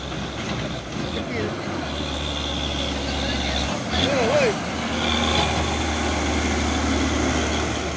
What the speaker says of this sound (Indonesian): Trailer kontainer Hino